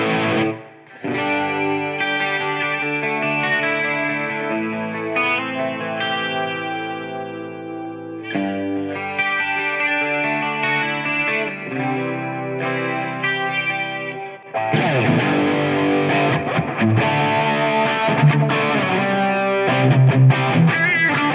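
Electric guitar through a Helix Silver Jubilee Brit Plexi amp preset, playing loud, sustained distorted chords and riffs in a classic hard-rock tone, with a brief pause partway and a heavier, denser passage toward the end.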